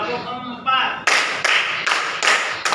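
Classroom group clapping in a counted rhythm, a teacher leading students in a clap game; after a stretch of talk, several loud synchronized claps land in even succession, close and sharp.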